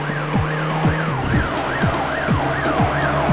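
Repeated wailing police sirens in The Getaway's London streets, several overlapping rising-and-falling tones cycling steadily over a rumbling car engine, loud and close with no talk.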